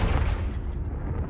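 A Confringo spell explodes in the video game Hogwarts Legacy, a loud, close, rumbling blast that fades over about a second.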